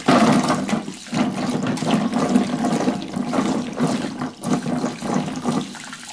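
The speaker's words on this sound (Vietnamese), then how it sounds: "Và mình sẽ mang phần hành này đi rửa sạch." Scallions are rinsed under running water, a steady full splashing stream with no talk, loud and close for the whole stretch.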